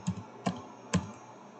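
Three distinct computer keyboard key strikes, evenly spaced about half a second apart, close and fairly quiet, the last a firmer press like hitting enter on a Windows PC.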